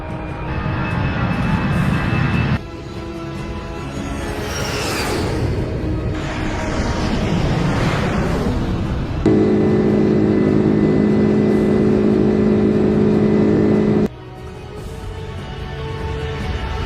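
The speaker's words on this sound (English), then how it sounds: "The flight started its takeoff roll from Dubai International Airport 9 minutes before the scheduled departure time." An Air India Express airliner makes its takeoff roll at Dubai International Airport: a loud, steady engine roar with droning tonal hums that swells and shifts throughout, with no voices.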